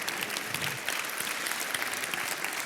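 A mentoring evening audience claps steadily, the thick, continuous applause of a room full of people holding an even level from start to finish.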